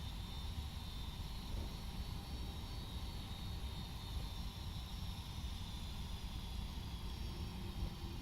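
Steady, continuous roar of Rolls-Royce RB211 engines on a Boeing 757 in the X-Plane 12 flight simulator, a broad even drone holding constant with no talk over it.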